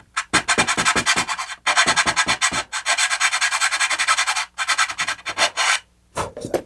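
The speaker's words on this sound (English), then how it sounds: "Let's see if I can sand that down." Sandpaper rubbing over a gap on a model rocket pod, a steady run of quick back-and-forth strokes, close and loud, broken by a few short pauses, with no talk.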